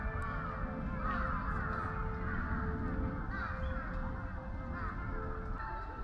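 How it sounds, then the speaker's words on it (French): Crows cawing repeatedly around Tokyo, harsh calls coming in irregular bursts over a steady outdoor hum, some near and some farther off. "il y a beaucoup de corbeaux"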